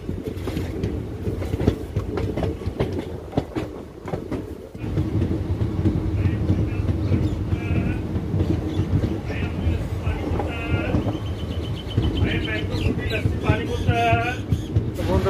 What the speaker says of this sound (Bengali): দেখুন এবার আমাদের ট্রেন চলে যাবে ওই গয়া সেকশন